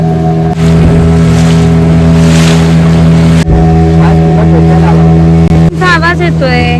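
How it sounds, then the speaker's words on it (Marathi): A motorboat engine drones loud and steady on the sea off Tarkali, a constant low rumble throughout, with a voice heard briefly near the end. "बोटला इंजिन आहे, त्या इंजिनचा आवाज येतोय"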